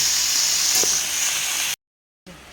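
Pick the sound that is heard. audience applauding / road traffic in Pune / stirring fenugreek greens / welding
stirring fenugreek greens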